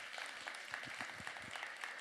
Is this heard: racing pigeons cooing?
no